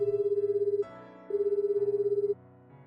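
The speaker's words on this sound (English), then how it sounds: "the cell phone still ringing in my hand" A cell phone ringing in a video game sounds two bursts of rapid electronic warbling tone, with a short pause between them, loud and near, and no voices.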